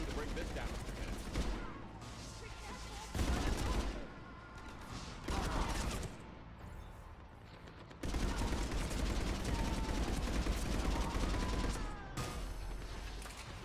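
Gunfire in the shooter Mass Effect 3, heavy bursts of rapid shots in several loud stretches broken by brief quieter gaps, mixed with mechanical clanks and crashes.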